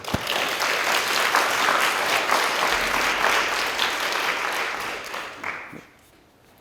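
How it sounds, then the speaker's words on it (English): Enthusiastic audience applause welcoming a wooden flute maker, dense and loud clapping that holds for several seconds, then thins out and trails off into quiet. "So if everyone could give a big round of applause to Mr. Lee Entrekin."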